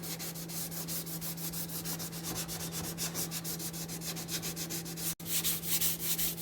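Hand sanding primer on a Ford F-150 fender with 320-grit sandpaper, fast rhythmic back-and-forth rasping strokes, close and steady, with a brief pause near the end before the strokes resume.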